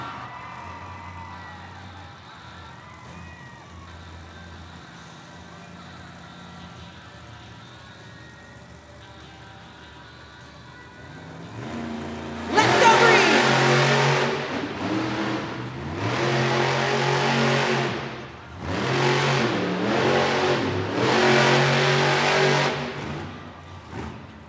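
The Grave Digger monster truck driven by Matt Cody revs hard in an arena at Monster Jam in Evansville. After a quiet stretch of low murmur comes a series of loud, surging engine bursts separated by brief dips, with crowd noise underneath.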